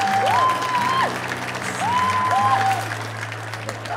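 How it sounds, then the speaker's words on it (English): Audience applause after a debut performance, a steady wash of clapping running under prominent sustained whistle-like tones and a low hum, holding fairly even before easing slightly. "Give them a round of applause."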